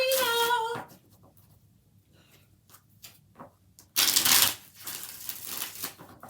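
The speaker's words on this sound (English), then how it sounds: "4 shuffles for Katrina." Tarot cards are shuffled in several quick bursts of riffling and flicking, the loudest burst near the end, with brief quiet pauses between.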